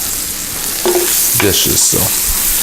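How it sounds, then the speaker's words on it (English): Potatoes with parsley and dried chives sizzle loudly in butter in a pan, a continuous bright frying hiss with stirring scrapes and clanks partway through. "I'm gonna let that go ahead and cook for just a second in that butter"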